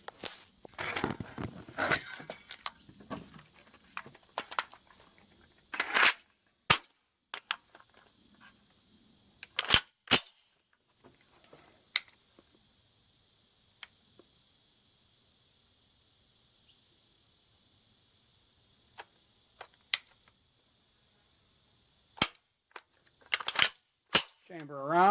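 Gunshots from an FN firearm at an outdoor shooting range with a target at 30 yards: a handful of sharp, isolated reports spaced irregularly, with quiet handling clicks between them over a steady high insect-like hiss.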